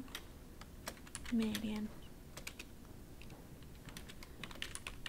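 Quiet clicks of typing on a computer keyboard while working in ArcGIS software, scattered keystrokes in short bursts, close but soft, with a person talking over part of it.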